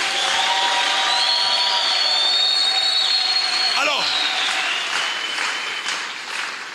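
Church congregation applauding during a worship service, a steady dense wash of clapping and cheering with voices mixed in, fading slightly toward the end.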